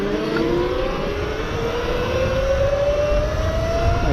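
A 72V Razor MX650 electric street bike rides along with a steady whining motor tone that rises slowly in pitch. Broadband road and wind rush sits underneath at a constant level.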